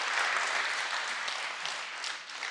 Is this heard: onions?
no